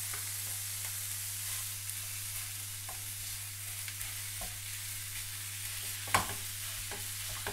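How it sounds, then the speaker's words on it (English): Minced meat browning in a hot pan for a school dinner recipe gives a steady, moderately loud sizzle and crackle, with occasional stirring scrapes and one sharper clatter near the end, no talking. "Nice sizzle, good start."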